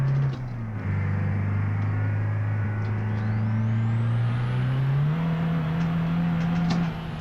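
A modified delivery van's engine drones steadily and then climbs in pitch as the turbo boost kicks in, a loud, continuous close-up rev from inside the cab.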